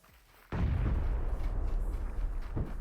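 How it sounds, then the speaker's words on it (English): A grenade blast lands in a video game battle royale match, a sudden loud boom after a quiet start, followed by a sustained rumbling roar with scattered crackles and a couple of fainter thumps near the end. "Grenades come out."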